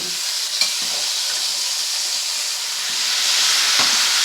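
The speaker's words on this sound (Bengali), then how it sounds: "কসুরি মেথি আর লবণ দিয়ে টমেটোটাকে আরও ভালো করে কষিয়ে নেব।" Tomato with kasuri methi, salt and parboiled potatoes sizzling in a hot pan, a steady bright frying hiss with occasional soft stirring scrapes, no voices.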